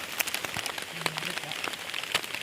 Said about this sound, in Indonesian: hujan semakin menghajar kami